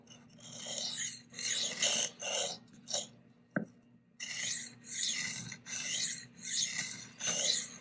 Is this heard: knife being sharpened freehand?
yes